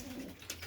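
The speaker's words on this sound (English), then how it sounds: "He's a lovely pigeon" A pigeon coos softly and briefly, a low throaty call from a bred show cock bird in a breeding loft, close by and with no talk over it.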